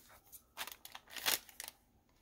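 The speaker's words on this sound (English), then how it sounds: "I'm going to cut the bottom off." Scissors snip through the bottom of a crinkly plastic bag, giving a few quiet, close crisp cuts and crackles over about two seconds, with no talking.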